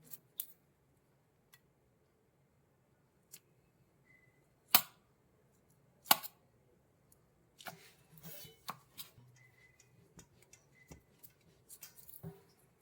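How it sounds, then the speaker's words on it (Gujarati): A knife peels the charred skin off a roasted eggplant for bharta, heard as faint, sparse scrapes and sharp taps spread out over quiet stretches, with no talking. "હવે આપણે છરીના મદદથી છાલ કાઢીશું"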